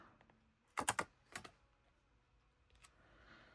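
Paper edge pieces being cut for a gift box: a few sharp, close snips and crisp paper sounds in quick bursts, separated by quiet pauses.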